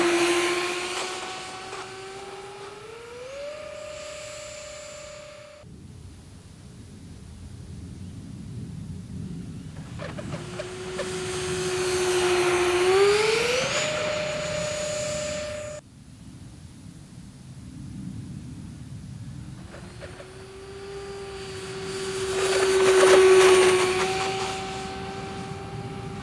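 E-Flite Airbus A320neo twin 64mm EDF model jet in flight, its ducted fans giving a loud rising whine and rushing roar that swells and fades across repeated passes, with no talk.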